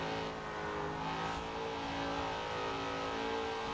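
Vintage American muscle car engines, including a Dodge Charger, roar steadily through a Forza Horizon 4 race, a continuous loud mid-pitched drone with rising revs and a faint whoosh of a car closing in, no talking.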